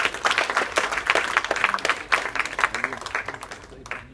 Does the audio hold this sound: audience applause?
yes